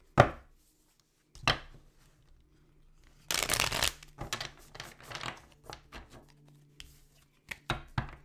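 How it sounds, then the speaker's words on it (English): Tarot cards being shuffled by hand: a few sharp riffles and crisp card-on-card flutters in short bursts, separated by quiet pauses, close and fairly soft. "Let me get a good shuffle first"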